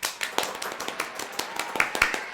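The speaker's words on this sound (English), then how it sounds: "can we get a round of applause for the MK4?" A small group claps for a Toyota Supra MK4 in a car ranking session: a short burst of sharp, close, uneven hand claps lasting about two seconds.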